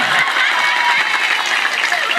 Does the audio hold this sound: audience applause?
yes